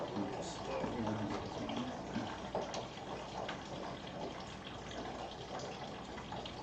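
Water running steadily from a counterflow chiller during a homebrew brew day, a continuous low wash of flow under people talking nearby.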